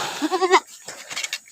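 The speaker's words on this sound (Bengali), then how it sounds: "এই ছাগলের ডাক শুনতেছি" A goat bleats once up close, a wavering nasal cry lasting about half a second, followed by quieter rustling and faint background noise.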